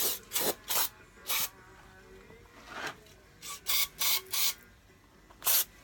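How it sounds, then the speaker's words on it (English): Brake cleaner sprayed in short hissing bursts onto engine parts of a Honda GX390 460 stroker being cleaned before assembly, about ten close, loud spurts with brief pauses between, no talk. "But this is brake cleaner."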